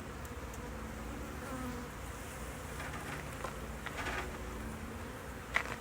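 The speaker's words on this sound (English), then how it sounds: "We're gonna pull this queen out. Some bees are gonna come out." Many honeybees buzz in a dense, continuous drone at a steady moderate level, with no voices.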